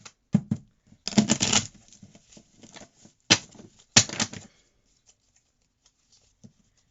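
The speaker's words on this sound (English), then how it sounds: "So I'm just going to go ahead and cut the deck and shuffle a quick shuffle." A tarot card deck is cut and shuffled in a few quick riffling bursts, close and crisp, separated by short pauses and light handling.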